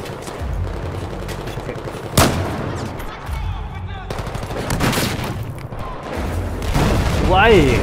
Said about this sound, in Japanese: 何この爆発